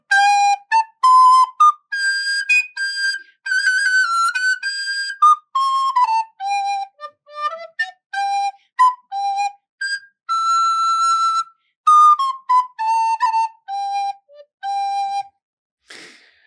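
High melodic phrases from a soprano instrument, clear sustained and detached notes with breaks between phrases, loud and close, solo with no accompaniment.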